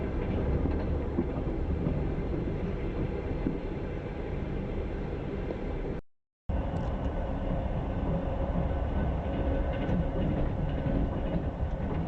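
A night train leaving Russia for Vilnius, Lithuania rumbles steadily along the rails with a dense, continuous low roar and faint clatter, broken by one brief dropout midway.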